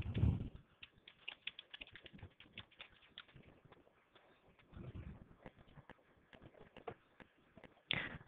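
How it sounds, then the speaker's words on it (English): A password is typed on a computer keyboard during a Microsoft System Center Operations Manager 2012 Beta installation, a run of rapid light key clicks, close and quiet, with a few louder bumps at the start and end. "Type in the password again."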